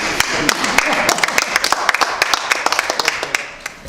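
A single person claps along at a town hall question-and-answer session in a Moose Lodge, sharp handclaps scattered irregularly over a few seconds beneath ongoing room noise and talk.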